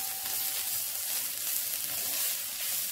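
Ugba, sliced oil bean, sizzles steadily in a hot pan as a Nigerian abacha salad is prepared, a continuous close crackling hiss with no voices.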